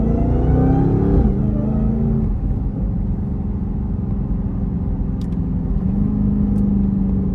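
A tuned Redeye car engine drones steadily up close in traffic, a high whine riding over the low rumble, with a brief rev at the start and a shift in pitch near the end.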